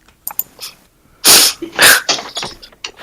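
A person sneezes once loudly and sharply at close range, followed by a smaller second burst and some faint scattered noises, with no talking.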